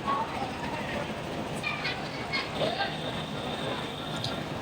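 The Jamalpur Commuter local train pulls in at a station platform, a loud continuous rolling rumble with faint squeals, while people talk in the background.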